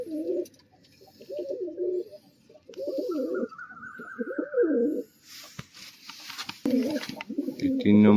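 Pigeons in a racing or club setting coo repeatedly in low, throaty bursts at close range, with brief pauses between calls and a higher whistling tone partway through.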